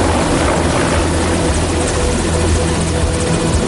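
Helicopter in flight over remote Russian Arctic islands, a loud, steady rotor and engine roar that fills the whole clip with no break.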